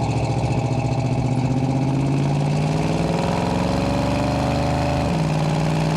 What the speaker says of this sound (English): a little bit more of an aggressive acceleration there